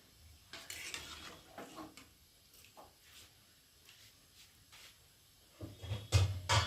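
Egg pulao stirred in a pot after water is added: faint, scattered scrapes and soft clinks, growing into louder metallic knocks near the end.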